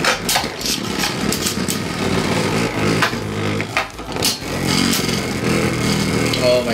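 Vanish Fafnir F7 Beyblade clashing and spinning in a stadium during a test battle, a loud continuous whirring grind with sharp metallic knocks throughout, steady and close.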